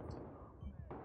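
Gunfire in the video game Battlefield 3 comes as a quick, low, booming burst of shots, heavy and muffled, lasting only a moment.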